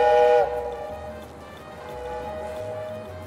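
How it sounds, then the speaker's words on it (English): A ship's steam whistle in the city-building game Tropico 6 sounds a loud, steady blast that drops suddenly to a softer sustained tone lingering in the background. "Where is that whistle coming from? There are no trains. Oh, it's just the ships."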